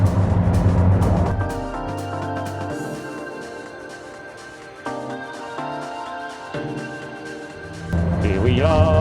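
A McLaren 620R engine accelerating on the Goodwood motor circuit, with a deep roar rising through several gears, a brief drop at each shift, and a loud surge again at the end.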